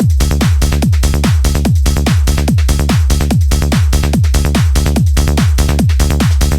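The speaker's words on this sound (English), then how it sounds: "Bass Importance is a very sharp and plucky bass sound" A sharp, plucky synth bass plays a fast, steady rolling line of short punchy notes, each with a bright attack that quickly decays, loud and alone.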